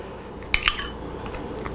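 A spoon clinks against a dish of apple brown betty dessert with ice cream: two quick, bright clinks close together, then a few fainter taps over a quiet background.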